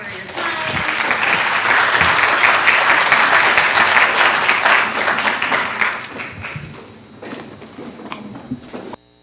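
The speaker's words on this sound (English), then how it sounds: "So let's give our panelists a round of applause." Audience applause for panelists at a new student-veteran and dependent welcome session, dense steady clapping that swells early, holds for several seconds, then thins out and tapers to scattered claps before stopping.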